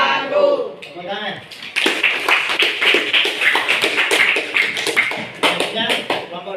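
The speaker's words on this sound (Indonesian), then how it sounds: "Tepuk tangan." Classroom audience clapping after a group presentation, a dense run of sharp claps that starts a couple of seconds in and carries on steadily, with voices at the start and chatter underneath.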